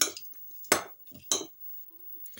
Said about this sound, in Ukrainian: Далі я все ретельно розмішую